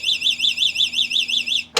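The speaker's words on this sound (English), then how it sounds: "it has this little alarm system that goes off" An anti-theft alarm on an Aniioki A9 Pro Max e-bike sounds alone as a loud, close electronic siren, warbling rapidly up and down in a steady repeating cycle before it cuts off abruptly.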